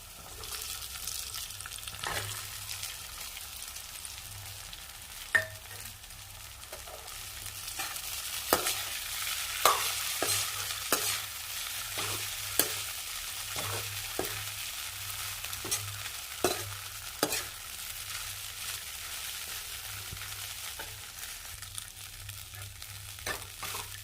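Crumbled idli being stirred and fried in a pan for upma, with a faint steady sizzle and repeated scraping taps of a spatula against the pan, close and uneven in rhythm.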